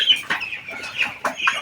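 Broiler chickens clucking up close, several short bursts of clucks and calls coming in quick, uneven succession with no talk over them.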